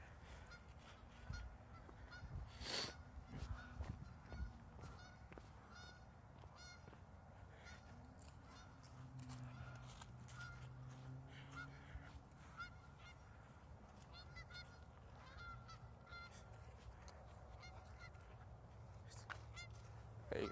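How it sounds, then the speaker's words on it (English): Several geese honk repeatedly in the background outdoors, distant and fairly faint, the calls recurring in irregular bursts over a steady ambient hiss and occasional handling noises. "You can probably hear some geese in the background."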